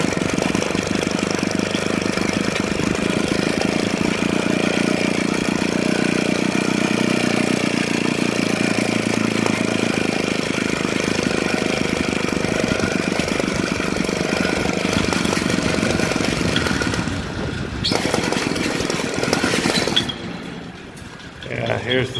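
An off-road trail vehicle engine idles steadily at close range, a continuous low rumble that holds for most of the stretch before briefly dipping and wavering near the end.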